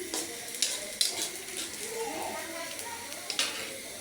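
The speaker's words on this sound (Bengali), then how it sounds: "এখন পেঁয়াজকে তুলেও ভালোভাবে নেড়ে ছেড়ে বাদামি কালার করে নেব।" Onions sizzle softly in oil in a pan while being stirred toward browning for a potato curry, with light spatula scrapes and a few sharp clinks against the pan, fairly quiet and close.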